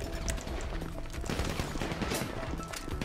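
Gunshots in a crowded GTA Online PC match, a dense run of rapid shots at moderate loudness that keeps up throughout the clip.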